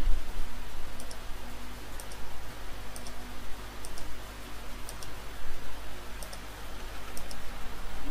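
Numbers are keyed into a spreadsheet on a computer keyboard, with sparse, light clicks spaced about a second apart over a steady background hum, with no talking.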